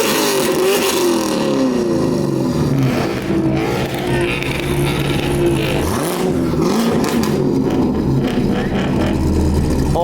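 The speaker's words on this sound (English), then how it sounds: "That is a nice sounding freaking car, dude." A loud 400 HP 1JZ-swapped Nissan S14 revs at a car show, its engine droning and rising in pitch under crowd noise and nearby voices.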